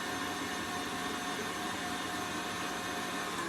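An electric mixer runs steadily at a low, constant level, a smooth continuous whir with no change in pitch and no voices over it.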